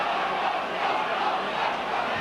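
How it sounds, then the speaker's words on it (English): Partisan rugby league crowd at a Leeds ground shouting for a player's dismissal, a steady, distant roar of massed voices filling a large stadium. "Partisan Leeds crowds calling for his dismissal"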